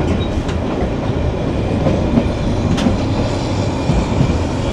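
The Saikat Express, a long passenger train from Chattogram to Cox's Bazar, rumbles steadily from inside a carriage, with a continuous loud roar and faint rhythmic clacks from the wheels.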